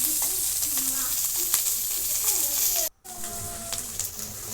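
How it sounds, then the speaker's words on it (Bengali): Mushrooms fry in a pan as their water cooks off, giving a steady close sizzle with soft stirring scrapes, broken by a brief dropout near the middle. "আপনারা দেখতে পাচ্ছেন সুন্দরভাবে ভাজা হয়ে আসছে, জলটা প্রায় শুকিয়ে আসছে"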